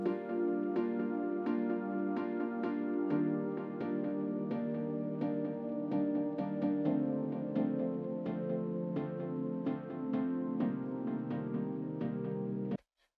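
A looping sequence of sustained harmonic chords with soft rhythmic plucks on top, steady and full, ending abruptly in silence.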